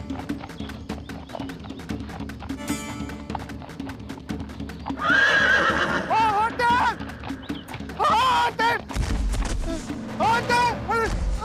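Horses neigh in several loud, shrill whinnies, layered over the rhythmic clip-clop of hooves, with some background noise and a dull thump partway through.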